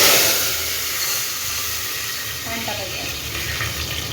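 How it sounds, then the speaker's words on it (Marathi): Water poured into a hot pot of whole spices (cardamom, cloves, cinnamon, bay leaf) while making mutton biryani, a broad hissing sizzle that swells at first and then settles into a steady, softer bubbling wash nearby. "पाणी टाकायचं"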